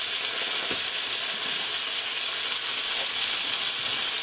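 Ginger paste fries in a pan while being stirred for a curry of climbing perch fish, a loud unbroken hiss of oil with faint scraping strokes underneath.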